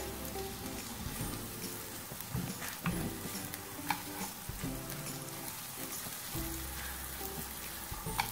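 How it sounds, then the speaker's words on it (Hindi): Cumin kebabs fry in a pan with a steady crackling sizzle, broken by repeated scraping bursts as they are turned, with no one talking. "कबाबों को हम टर्न करेंगे। एक साइड से गोल्डन ब्राउन हो चुके हैं।"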